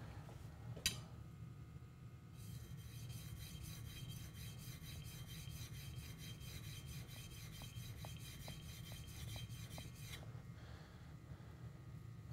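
A plane iron is rubbed back and forth on an extra fine sharpening stone, a steady rasping scrape that carries on through most of the stretch, close and fairly quiet, with a few small clicks and no talk.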